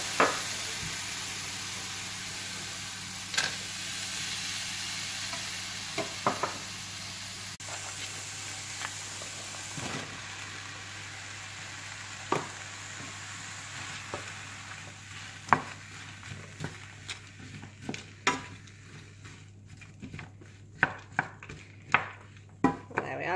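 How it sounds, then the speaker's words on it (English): Vegetables for a chilli go into a pan over high heat, giving a low steady sizzle, followed by a run of sharp utensil taps and scrapes that grow more frequent toward the end. "I've just got it on a high heat to start off with, and then once everything's in and cooked, you'll just let it simmer. So I'm just gonna add all the vegetables."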